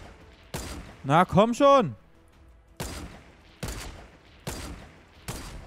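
Gunfire in the Fortnite video game, with sharp shots spaced out at irregular intervals across the stretch and a short burst of excited speech between the first shots.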